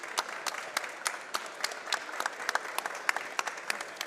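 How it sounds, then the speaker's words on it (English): An audience at a live trade-show event claps steadily, a dense patter of many hands filling the room at moderate distance with no voices over it. "So I want to give everyone here a round of applause in helping us."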